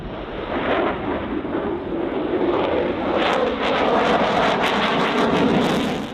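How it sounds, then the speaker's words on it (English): USAF F-16 Falcon fighter jets roar overhead in a loud, steady, unbroken rush of engine noise that swells slightly partway through, with no voices. "The U.S. Air Force, USAF, F-16 Falcon fighter jets soar in the sky"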